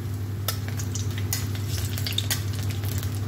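Dried red chillies and a bay leaf frying in hot oil for a methi chicken curry, a steady close sizzle with a few sharp spatula scrapes and clicks against the pan, no voices.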